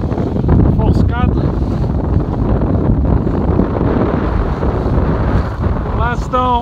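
Meltem wind at force 4 buffets a sailboat under mainsail alone, with following swell, giving a loud, continuous roar and rush across the microphone and brief creaks and squeals from the rigging.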